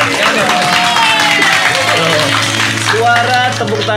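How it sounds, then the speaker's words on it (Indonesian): Live studio audience applause at an RRI Net live music broadcast: a dense, steady wash of clapping lasts the whole clip, with sustained musical tones and a voice running beneath it. "Suara tepuk tangan yang didengar sahabat kreatif dan juga pemirsa RRI Net ini benar-bener real orang ya, bukan visual effect"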